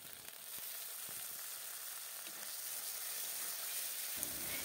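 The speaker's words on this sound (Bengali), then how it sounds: "এবারে তেলের মধ্যে দিয়ে দিল শুকনো লঙ্কা, চিকন জিরে, গ্রেট করা আদা আর রসুন।" Dried red chillies, cumin, grated ginger and garlic fry in hot oil, making a continuous even hissing sizzle close up that runs throughout without a break, with a few faint stirring clicks and no voices.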